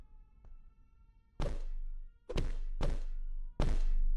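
A big character in the Gansta D video game lands heavy blows on the player: four loud, close, booming thuds at irregular intervals, each ringing briefly after an earlier faint tap, with no talking.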